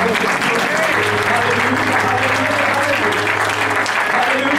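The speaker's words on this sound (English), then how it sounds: "Can we just give him a hand clap of praise right now?" A church congregation claps hands in praise during a worship service, a dense, steady wash of applause that fills the whole span, with a sustained low hum beneath and voices mixed in.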